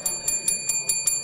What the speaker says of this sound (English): wow, good they have a bell here.